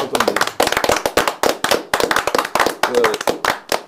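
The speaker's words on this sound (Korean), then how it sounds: "저희들이 국민을 위해서 박수를 일단 우선 한번 쳐드리겠습니다" A few television show hosts clap their hands together close to the microphone, a brisk, loud run of sharp, uneven claps lasting a few seconds with no voices over it.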